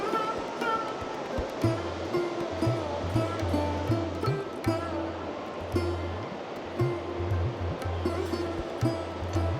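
Sharin River rushing through the Black Canyon in Kazakhstan, a steady broadband roar of flowing water that runs continuously beneath a repeating low rhythmic hum and scattered brief knocks.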